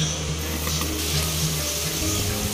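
Chicken and vegetables frying in a pan while being stirred, a steady close sizzle with a broad hiss and faint scrapes under it.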